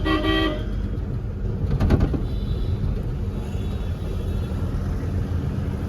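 The horn of a tile-laden Sigma cabin truck sounds in one brief loud honk at the start. Continuous heavy engine rumble follows, with a short rattling burst midway.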